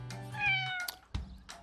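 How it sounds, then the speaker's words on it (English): A kitten gives a couple of short, clear meows close by, separated by a brief pause, with no talk over them. "Oh, that sounds like a kitten."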